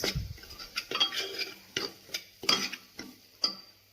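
Spices being stirred in a cooking pan for corn sabji, with red and Kashmiri chili powder: a utensil scrapes and taps the metal in repeated irregular strokes, close and clear, over a faint sizzle.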